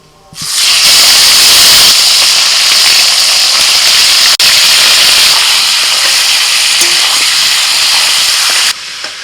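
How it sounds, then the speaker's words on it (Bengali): Chicken pieces hit hot mustard oil in a wok, where potatoes were fried first, and set off a loud, steady broadband hiss that erupts almost at once and holds for about eight seconds before cutting off. "এবার যে তেল আছে ওর মধ্যে আমি চিকেন দিয়ে দেবো"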